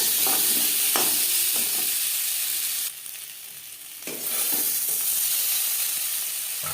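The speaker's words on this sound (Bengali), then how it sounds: "মাছ ভেজে নেওয়া হলে আলু ভেজে নেব।" Boiled potatoes rubbed with salt and turmeric fry in hot oil in a pan for a fish curry, giving a steady close sizzle that dips briefly midway before rising again, with faint stirring clicks.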